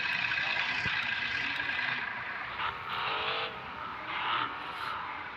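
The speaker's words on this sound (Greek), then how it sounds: "Είδες πως κάνει drift το αυτοκίνητο?" A car drifting, with sustained engine roar and tire noise rising and falling over several seconds, fairly loud and steady with no talk.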